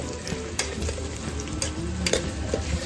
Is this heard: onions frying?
yes